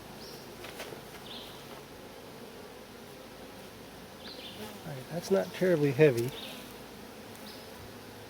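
Honey bees buzz in a steady hum around a nuc hive outdoors, with a louder swell of close buzzing partway through as someone talks briefly nearby.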